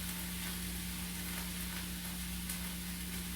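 Food sautés in a pan, a dense, steady sizzle heard close over a low hum, continuous and unbroken, with no talk.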